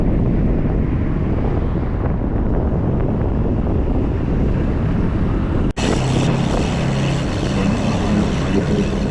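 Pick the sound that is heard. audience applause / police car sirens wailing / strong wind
strong wind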